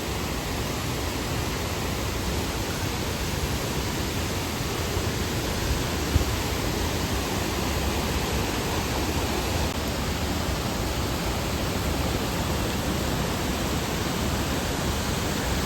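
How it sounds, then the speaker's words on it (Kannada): Lakkam waterfalls near Munnar, with water pouring and flowing in a steady, dense rushing roar that holds an even level throughout and has no voices. "ಫಾಲ್ಸ್ ಮಾತ್ರ ತುಂಬಾ ಚೆನ್ನಾಗಿದೆ ಮತ್ತು ಪ್ಯೂರ್ ಆಗಿದೆ ನೀರು"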